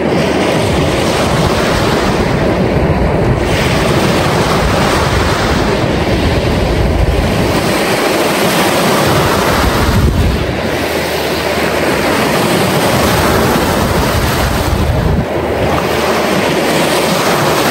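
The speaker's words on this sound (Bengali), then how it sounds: "আমাদেরকেও এই ঢেউয়ের আওয়াজটা একটু শোনালাম, কারণ এটা ভীষণ সুদিং।" Ocean waves roll onto a beach in Canada in repeated loud washes of surf, with wind buffeting the microphone between the swells.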